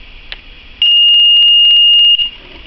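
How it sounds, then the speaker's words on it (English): A single sustained electronic beep from a Motorola Minitor V pager entering programming mode, high and steady for over a second, loud and clear against a quiet background with faint clicks before it. "Once you hear that beep"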